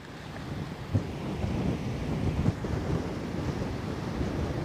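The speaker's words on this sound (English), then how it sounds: "I think over the last hour the wind has really picked up again" Strong western wind off the sea at the Westerschelde buffets the microphone in a loud, continuous roar, with low gusty rumbles and a couple of sharper thumps.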